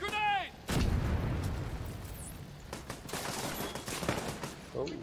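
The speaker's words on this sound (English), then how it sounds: "Take cover! Grenade!" Heavy explosions and bursts of gunfire boom through a firefight in The Division 2 video game, loud and reverberant, with a short electronic tone at the start and brief voice sounds partway through.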